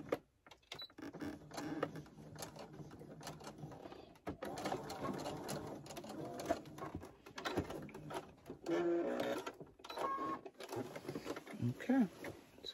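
A sewing machine back stitches a hooded towel, with irregular short bursts of close mechanical whirring and clatter broken by stops and fabric handling, and a voice speaking at times.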